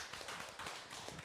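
A short, quiet burst of audience clapping at a Buddhist temple gathering, with many dense hand claps blending together.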